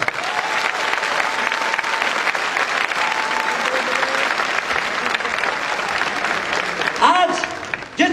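Sustained applause from a seated audience at a wellness company motivational talk, a thick continuous patter of many hands lasting several seconds, with voices briefly rising near the end.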